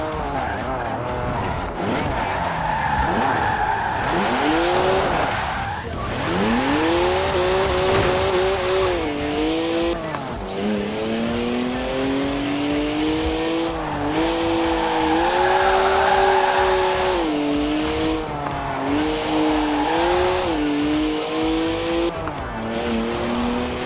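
A BMW driven hard in Forza Horizon 4, the engine rising and falling through gear changes with long tire squeals and skids, loud and continuous, with occasional talk over it.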